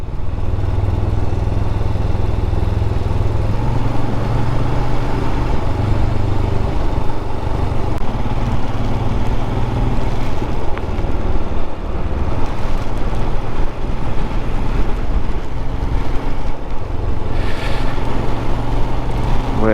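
A motorcycle rides the Devils Staircase mountain road from Tregaron to Abergwesyn in pouring rain, its engine a steady close drone mixed with wind buffeting and road noise for the whole stretch, with no talking.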